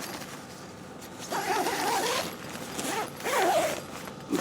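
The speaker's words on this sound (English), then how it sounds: "The door closes fairly well. The zipper's a little sticky," A slightly sticky zipper on the door of an Ozark Trails one-person backpacking tent, heard as two separate rasping pulls, each lasting about a second, close up in a quiet setting with no talking.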